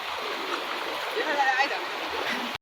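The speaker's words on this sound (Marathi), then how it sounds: "हा धबधब्याचा पाणी येतोय" Rushing water from Palasdari waterfall near Karjat pours steadily in a continuous hiss and roar, with a faint voice briefly heard over it.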